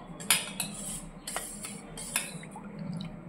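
A ladle scoops dal, a mixed-lentil amdal, from a pot, with metal clinks, scrapes and soft wet drips in a few quick, close, quiet strokes.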